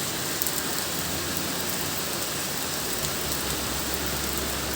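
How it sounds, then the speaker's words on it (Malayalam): Heavy rain pours outside in a dense, steady, even roar of drops hitting surfaces, constant throughout with no voices. "നന്നായിട്ട് മഴയുണ്ട് കേട്ടോ."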